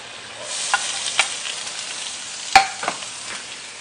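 Garlic and onion sizzle in a hot pan, a steady low frying hiss broken by several sharp pops and stirring clatters, close and without speech.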